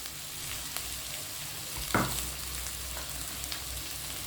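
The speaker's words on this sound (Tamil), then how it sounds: "இதையும் சேர்த்து நல்லா வதக்கிக்குவோம்" Potatoes frying with roasted pepper, cumin and fennel powder, a faint steady sizzle with light stirring and one brief scrape of the spatula partway through, without speech.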